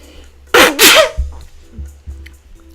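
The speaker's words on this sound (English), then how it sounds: "I have to sneeze" A single loud, close sneeze with a sharp inhaled build-up and explosive burst, followed by faint breathing and small movement sounds in a quiet room.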